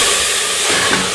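Ginger garlic paste and two ripe red tomatoes hitting a hot pan with already-fried onions for a jackfruit curry, giving a loud, steady broadband sizzle and hiss with no voice.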